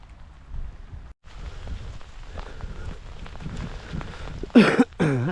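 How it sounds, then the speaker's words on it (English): Steady rain falls through a rural Fife countryside walk, a dense patter running throughout with a brief break early on, and a louder burst of close rustling near the end. "I can't believe it's raining like this."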